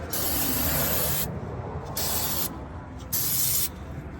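Aerosol cleaner is sprayed onto spilled engine oil underneath a 2002 Volkswagen Golf Mk4, three close, loud hissing bursts separated by short pauses.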